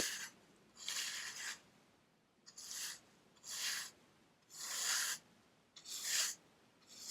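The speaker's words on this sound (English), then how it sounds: "Let's remove some more dirt, sand, swipe it away and see what we find." A brush sweeps dirt and sand off a paper map in close, quiet ASMR style, with six soft, airy swipes arriving in a slow irregular rhythm and near-silent pauses between them.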